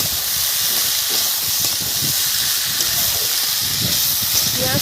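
Potatoes with salt and ginger-garlic paste sizzling in a hot pan as fish-head curry is cooked, a loud, steady, hissing frying sound throughout with no talking.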